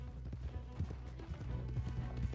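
Horse hooves clip-clopping in the video game Red Dead Redemption 2, a steady rhythmic series of soft, muffled thuds at a moderate pace over a low rumbling background.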